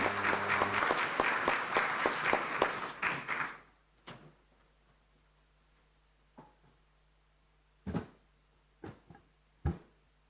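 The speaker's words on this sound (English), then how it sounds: "Please, another round of applause for Dr. David Odenga." Audience applause at an African inter-parliamentary conference on family and sovereignty, a dense burst of clapping for about three seconds that dies away into a few scattered claps.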